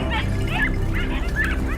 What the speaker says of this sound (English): The hunting dogs were in full pursuit of a massive dark figure.